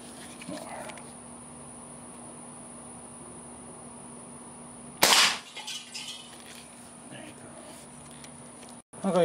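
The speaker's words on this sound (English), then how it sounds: "I'm still shooting a CO2 gun." A single sharp, loud report from a Crosman 2300KT CO2 air pistol fired freehand outdoors on an evening in Texas, cutting through a constant chorus of insects, followed by a brief rattle and then the insect drone again.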